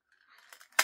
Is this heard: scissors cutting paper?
yes